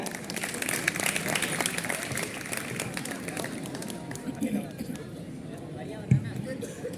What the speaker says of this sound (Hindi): इनके लिए जोरदार तालियां, जोरदार तालियां भैया